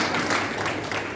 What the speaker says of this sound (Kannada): ಚಪ್ಪಾಳೆ ಹೊಡ್ರಿ.